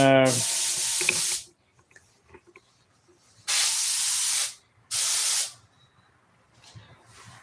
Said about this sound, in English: this is John's paint gun